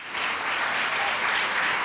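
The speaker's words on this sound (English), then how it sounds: "A round of applause." A seminar audience at a youth faith convention breaks into a short burst of dense, steady applause that starts suddenly and stays even throughout, with no speech on top.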